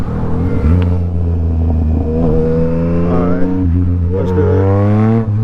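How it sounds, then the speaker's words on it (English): Yamaha MT-09 motorcycle engine revving hard as it accelerates on a back road for a wheelie, a loud, close, steadily climbing whine with rising harmonics and a brief shift near the end. "See if we can pop up a little wheelies now that we're on this back road."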